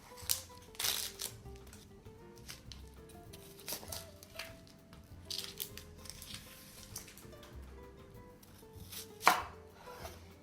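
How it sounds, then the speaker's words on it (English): A kitchen knife rough chopping celery, carrot and onion on a board, giving irregular close thuds and crisp cuts in uneven bursts, with no talking. "Rough chop our celery. Got a piece of carrot here. Just rough chop this too."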